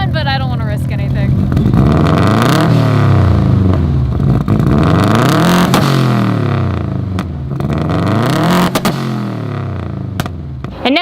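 Car engine revving in an untuned car, repeated rises and falls in pitch over a sustained idle, loud and close, with a voice talking over it.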